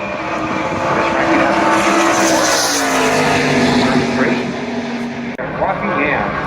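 NASCAR Craftsman Series trucks racing at Pocono roar past in a loud, continuous engine drone that swells and shifts in pitch as they pass, with a race commentator talking over it.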